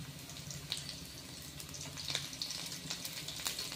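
Thinly sliced potatoes sauté in an oiled pan for aloo 65, giving a steady, moderately close sizzle with small pops and crackles and no talking.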